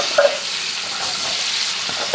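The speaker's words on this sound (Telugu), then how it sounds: "ఇప్పుడు మనం కడిగి పెట్టుకున్న మునక్కాడ ముక్కల్ని ఇందులో వేసేసుకోవాలి." Tender drumstick pieces sizzle in hot tempering oil with curry leaves, a steady close frying hiss broken by a couple of brief sharp pops and light stirring.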